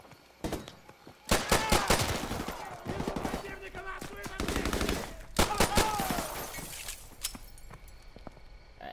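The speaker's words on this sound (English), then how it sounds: "I picked up a machine gun" Machine gun fire in the video game Call of Duty: Modern Warfare, loud rattling bursts of rapid shots in several clusters separated by short pauses, with other weapon sounds and a voice talking in between.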